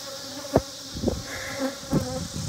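Bees from a yellow hive buzz close around the listener outdoors, a steady whining hum with louder swells as single insects fly past near the ear.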